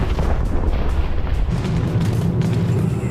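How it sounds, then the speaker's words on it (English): Heavy bombing-run explosions boom through a toy-soldier battle in the Plastic Battleground game, a continuous rumbling barrage of deep blasts that swells and rolls on without pause. "They set one of the biggest bombing runs to ever exist in the toy war history."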